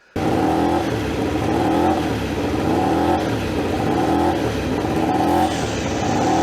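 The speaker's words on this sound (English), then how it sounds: "blipping the throttle, blarm, blarm, blarm, blarm, blarm" A superbike engine in a pit garage is revved by a tech blipping the throttle to warm it up, giving a loud, close, continuous roar that swells and dips in repeated rhythmic surges.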